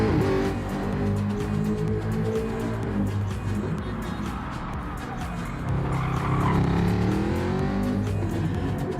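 A Jaguar race car engine in Gran Turismo Sport at Fuji International Speedway roars and revs continuously, with tires squealing through turns, loud and steady throughout.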